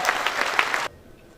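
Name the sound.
audience applause at conference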